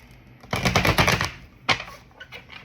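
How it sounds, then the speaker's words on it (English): A deck of cards is shuffled in two quick bursts: a rapid riffle of close, crisp clicks lasting under a second, then a shorter flutter after a brief pause. "Let's do a little shuffle."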